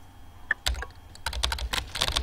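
Keyboard typing sounds in the video game Emily is Away, a chat-style game; a quick run of close, crisp key clicks in uneven bursts with short pauses, no voices.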